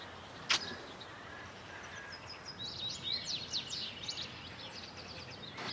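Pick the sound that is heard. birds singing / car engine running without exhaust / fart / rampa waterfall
birds singing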